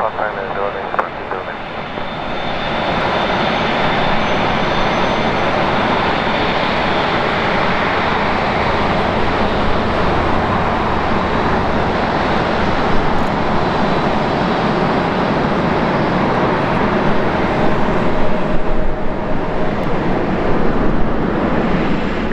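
Korean Air Airbus A380 departing on runway 7R at LAX, a loud, steady broadband roar of aircraft engines that holds for the full length with some wind buffeting on the microphone.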